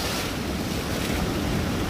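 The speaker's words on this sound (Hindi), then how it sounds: "इतना जोर से और आवाज़ों में तूफान ठाटे मारता हुआ समंदर" Stormy sea waves crash at Sandspit Beach in Karachi, a loud, unbroken roar of surf mixed with buffeting wind noise, close by and without talk.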